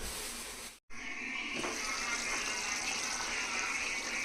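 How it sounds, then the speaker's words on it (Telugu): Water poured into a hot pan while cooking mutton curry, bursting into a loud, sustained splattering hiss after a brief gap, filling the rest of the moment with steady gushing sizzle. "పోసిన వాటర్ అంతా దగ్గరికి ఎగిరిపోయింది."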